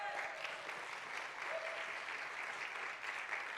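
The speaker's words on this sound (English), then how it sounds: "Please give them all a round of applause." Audience applauding artists at a Bushwick Book Club mainstage music event, steady sustained clapping from a crowd throughout, fairly even in loudness with no talk over it.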